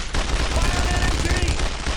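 Sustained rapid machine gun fire in the World War II shooter Brothers in Arms, a dense continuous rattle of bursts layered with battle noise, loud and close throughout.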